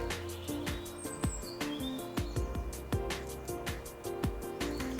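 Songbirds including a blackbird and a chaffinch sing around garden feeders at a nature reserve, a steady chorus of near and distant phrases and chirps layered over a continuous low musical background throughout.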